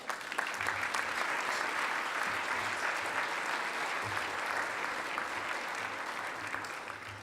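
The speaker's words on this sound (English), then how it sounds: "And another big round of applause for our award winners, Carrie Kelly, Chevron, and UDOT." An audience at an annual air-quality summit awards ceremony claps in sustained, even applause that carries steadily throughout, moderately loud with no voices standing out.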